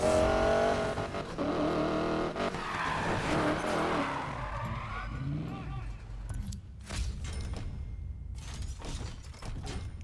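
A car in Need for Speed Payback drives loudly with a steady engine roar, then breaks into skidding and tire squeal, with sharp bursts near the end.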